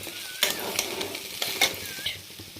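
Tomatoes go into a pan of frying potatoes: a close, soft sizzle is punctuated by a few sharp scrapes and clinks of a stirring spoon against the pan, with no speech.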